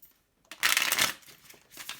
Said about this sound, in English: For pile 1, one last shuffle.